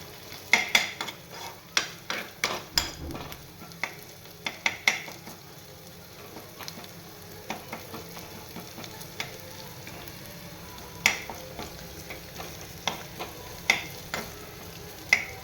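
A spoon repeatedly scrapes and clacks against a pan as ginger-chili paste is roasted and stirred over raised heat, with sharp irregular knocks over a soft, steady background sizzle.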